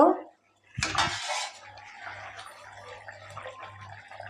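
A metal plate serving as a lid is lifted off a pot of simmering fish curry, giving one sharp close clatter of metal on metal followed by faint scraping and cookware noises.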